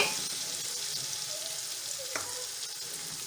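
Fennel and mace powders frying for seekh kabab pulao, a steady bright sizzle in a hot pan with a brief clink of a spoon partway through, no talk.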